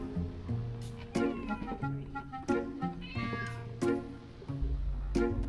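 A cat meows repeatedly inside a VR video game, with several distinct, fairly close calls spread over a few seconds above a low game ambience.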